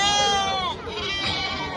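A goat at a livestock market in Pileru gives a drawn-out, wavering bleat close by, followed by a second bleat. Faint background noise sits underneath.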